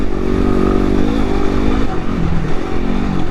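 A 2016 Yamaha WR250R dual-sport motorcycle ridden off-road through whoops, its small single-cylinder engine droning loud and steady with shifting revs, plus wind rush and suspension clatter close up.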